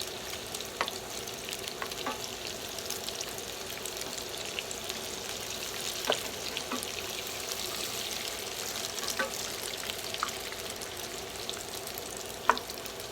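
Egg foo young sizzles and fries in a pan, a soft steady crackle with scattered small pops and spatters, fairly quiet and without talk.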